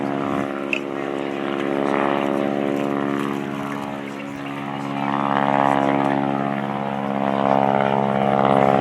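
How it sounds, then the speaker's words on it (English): A loud, smoky biplane carrying a wingwalker drones overhead at the Abbotsford International Airshow, its propeller engine making a steady, rich hum that swells and fades slightly as it passes, with no voices. "A great big, smoky, loud biplane and a wingwalker."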